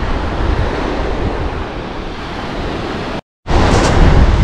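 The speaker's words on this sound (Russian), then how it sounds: "Итак, море, товарищи." Sea waves wash onto the shore at Lazarevskoye near Sochi, a loud rushing surf roar buffeted by wind against the microphone, cut by a brief silent gap before resuming.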